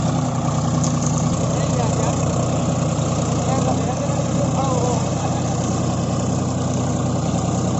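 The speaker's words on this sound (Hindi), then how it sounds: "और देखिए कितने राउंड ले रहा है ट्रैक्टर, देखिए खींच नहीं पा रहा है" A John Deere 5050D tractor works a field in two-wheel drive with its rear wheels slipping. Its diesel engine gives a loud, steady, close-up drone for the whole stretch, with no break or change in pitch.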